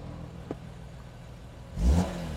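A BMW M3 E36 idles quietly, then gives one short, throaty rev near the end. The engine sounds close.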